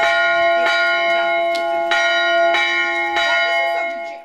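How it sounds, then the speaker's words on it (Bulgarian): A church bell rings loudly and steadily, struck about every half second to second, each clang ringing on with rich overtones. "Звън на църковна камбана даде началото на празника"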